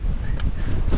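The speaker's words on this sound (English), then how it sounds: "And this is the true top. And it is very windy." Strong wind on the summit of Scafell Pike, England's highest point in the Lake District, makes a brief burst of buffeting rumble against the microphone, loud and continuous for about a second.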